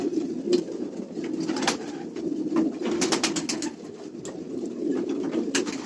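Racing pigeons cooing in a loft during pairing season: steady overlapping low coos from several birds close by, with sharp clicks and flutters scattered throughout and no one speaking.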